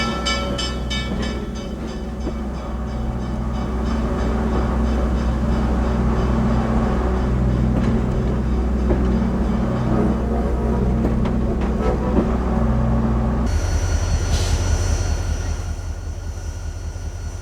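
Nickel Plate Road no. 765 steam locomotive rumbles and clanks along steadily, running tender first, loud and close, with a deep engine drone; the pitch and texture shift abruptly near the end.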